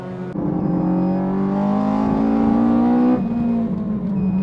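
A Toyota AE86 with a high-revving 4A-G engine built for 11,000 rpm, fitted with a Hayabusa head, revs hard during a test drive, a loud, close, rising engine whine that holds, drops briefly and climbs again.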